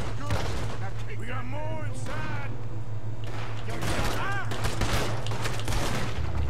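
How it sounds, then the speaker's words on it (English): Rapid gunfire in Red Dead Redemption 2 as shots are fired at a lock, several sharp reports over a steady background hum while someone speaks. "Shoot that lock, Arthur."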